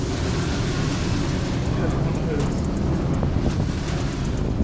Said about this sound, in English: The ship faced towering waves, rough seas, and winds of force 12